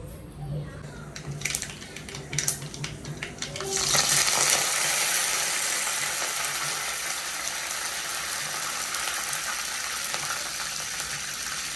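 Fresh curry leaves drop into hot oil and erupt into a loud, steady sizzle close by, after a few clattering pan sounds at the start.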